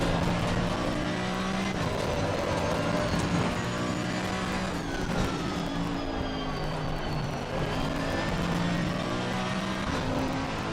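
A race car engine roars steadily in Assetto Corsa Competizione, with the revs rising and falling through gear changes. The sound is loud and continuous throughout, and no voices are heard.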